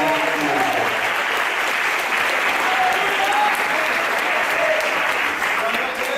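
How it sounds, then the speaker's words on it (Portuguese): A church congregation applauds together in a thick, continuous clapping that holds steady for several seconds, with faint voices calling out beneath it. "Eu gostaria que vocês pudessem aplaudir a Cristo, Ele merece."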